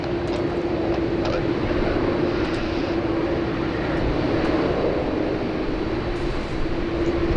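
A Qantas airliner, a heavy jet bound for Johannesburg, takes off from runway 16 right at Sydney Airport, its engines giving a loud, continuous roar with a steady hum throughout.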